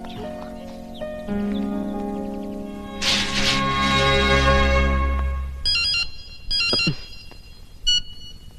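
A cellular phone rings in a film scene, its electronic ringtone chiming loudly in several repeated bursts over faint background music.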